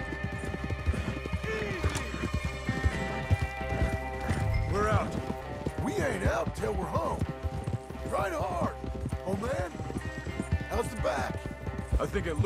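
Galloping hooves and a horse's whinny in a Red Dead Redemption 2 game scene, layered over steady music and loud voices talking throughout.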